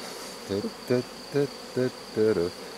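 Honeybees buzz close by at the hive in short bursts, about five distinct drones with brief gaps between them, over a quiet background hum.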